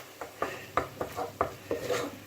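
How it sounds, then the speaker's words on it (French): Tomato paste sautéed in a pan for eggplant and ricotta rolls, stirred with a utensil that scrapes and knocks against the pan in about six distinct close strokes, with no talking. "Fait revenir à peu près 3 minutes."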